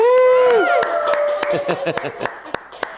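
Clapping from a podcast studio audience begins after a voice trails off, with a few separate, sharp hand claps at irregular intervals. Sparse and close rather than a full crowd.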